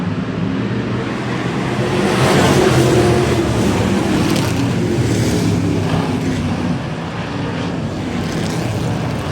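Race cars roar off at the green flag at Lake View Motor Speedway, a dense, loud, sustained engine drone that swells as the pack accelerates down the straightaway and holds steady throughout.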